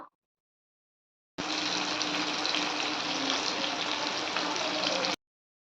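A pot of Bengali fish curry with tomato and ginger boiling on the stove: a close, steady bubbling and hissing simmer that starts abruptly after silence, holds evenly for several seconds, then cuts off.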